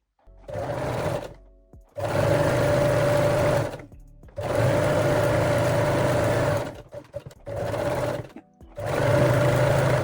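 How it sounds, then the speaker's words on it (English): A sewing machine runs a 3-step zigzag stitch over stretched elastic on a garment's waist, in five loud, steady bursts of a few seconds each, separated by short pauses, with no talk. "So I sew it on the wrong side of the front and back piece also, using the 3-step zigzag stitch"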